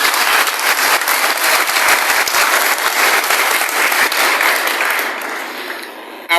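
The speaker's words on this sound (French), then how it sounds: "je voudrais que vous puissiez l'applaudir vraiment" A church congregation applauds a priest at the end of his term as regional superior: sustained, dense clapping that fills the space steadily before thinning and fading out near the end.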